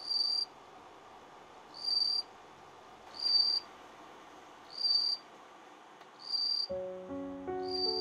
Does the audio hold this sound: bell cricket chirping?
yes